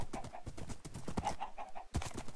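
Horse hooves clip-clopping at speed in Minecraft, a rapid, steady run of light thuds under game sounds, close and fairly quiet with no talk.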